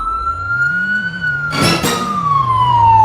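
Police siren sound effect played on a variety game show stage, a steady electronic tone sweeping slowly in pitch for about three seconds, loud and clear, briefly overlapped by a burst of noise midway.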